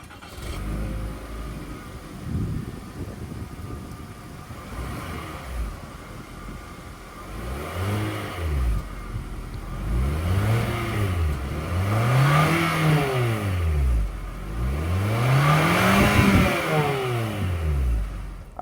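A 2024 Mitsubishi Outlander SE's 2.5-liter naturally aspirated 4-cylinder idles quietly, then is revved in a series of rising and falling blips that grow louder toward the end, heard from nearby without talk.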